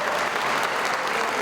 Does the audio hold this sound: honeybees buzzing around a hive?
no